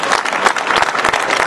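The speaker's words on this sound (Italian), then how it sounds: "allora l'applauso meritato" A short burst of lively clapping from a crowd at a short-film screening evening, dense and fairly close, with individual claps standing out.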